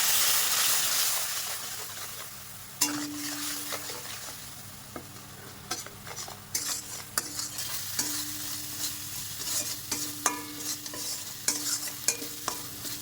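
Spice paste with Kashmiri red chilli powder and a little water cooking in a pan, a soft continuous sizzle broken by frequent spatula scrapes and taps, close and fairly quiet.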